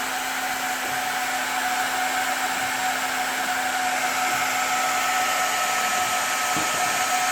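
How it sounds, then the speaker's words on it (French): Heat gun blowing hot air onto a plastic repair mesh being melted into a damaged plastic part, a constant loud whooshing hum with a steady tone, heard alone and close. "on applique la grille et on chauffe"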